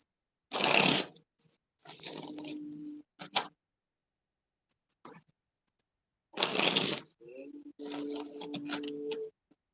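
Tarot cards are shuffled in two bursts of rapid riffling and slapping, each followed by quieter ticking clicks and a faint tone.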